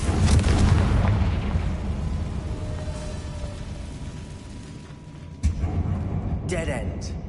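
A Confringo blast spell booms loudly at the start of a Hogwarts Legacy game session, a deep rumbling burst that slowly decays, with a second sharp impact later and a voice speaking over it.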